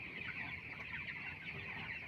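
Chickens cluck faintly on a poultry farm, a low, continuous murmur of many birds heard from a distance with no speech.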